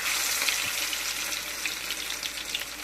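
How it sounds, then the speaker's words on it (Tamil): Oil sizzles steadily while masala-coated broccoli fries for Broccoli 65, a continuous close, fairly loud crackle with small pops scattered throughout and no talking. "இந்த எண்ணெய் இப்படி பொடிக்குதுல"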